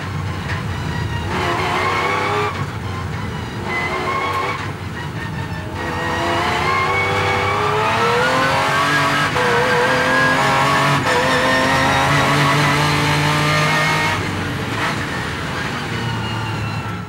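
Aston Martin DBRS9 GT3 race car lapping a track, loud close engine revving hard through gear changes and accelerations, with tire squeal through the corners and no talk.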